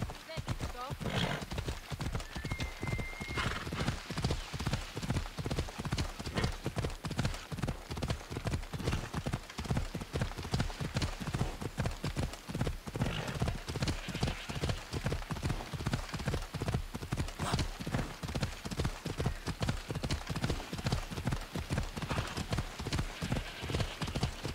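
The horse Phobos gallops in Assassin's Creed Odyssey, hooves pounding in a fast, steady rhythm close by, with a brief neigh early on and voices speaking over the hoofbeats.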